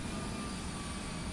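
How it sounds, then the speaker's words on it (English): An airliner approaching an airport in Microsoft Flight Simulator, a steady broadband jet roar with a faint high whine, constant in level and heard alone. "And I'm looking out for the other aeroplane that's coming in."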